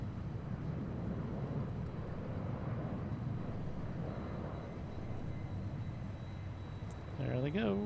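A SkyWest jet airliner rolls for takeoff from runway 16 center at Seattle-Tacoma, a steady broad jet roar heard from a distance throughout, swelling slightly near the end, with voices talking over it.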